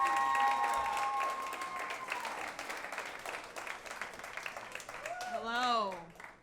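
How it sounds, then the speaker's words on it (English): Audience at a stand-up comedy show in New York City applauding and cheering as a comedian is introduced, a dense clapping wash that fades gradually, with a voice speaking over it near the end. "Hold the applause."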